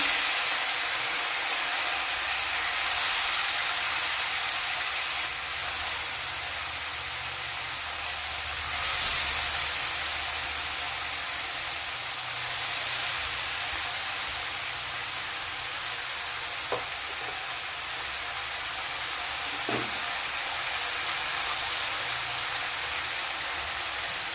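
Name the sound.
mourola fish frying in hot oil in a wok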